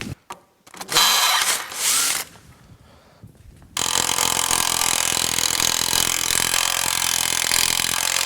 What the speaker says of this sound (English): I only have these 2 holes left to do. I just have to drill them, install these self-tapping bolts